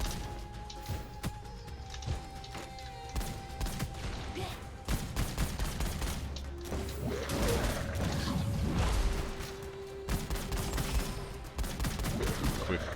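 Gunfire in the first-person shooter game Gunfire Reborn: rapid bursts of shots and mechanical weapon clacks, dense and continuous, with a few tonal game effects mixed in and no clear talk.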